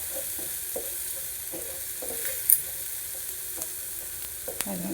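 Onions frying in oil for a paneer and peas curry give a moderate, continuous sizzle with regular scraping stirs spaced about every half second.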